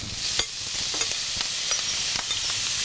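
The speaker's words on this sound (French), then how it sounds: "Et on ajoute nos moules." Mussels sizzling in a hot pan with butter, a steady close hiss of frying with scattered pops and occasional stirring scrapes, no talk.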